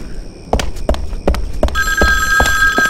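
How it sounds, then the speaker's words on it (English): An old-style telephone bell rings in the horror video game Nanashi no Geemu: Me, loud and close, repeating in short sharp bursts roughly every third of a second, with a high electronic tone joining partway through. "Now, where's the phone so I can answer it?"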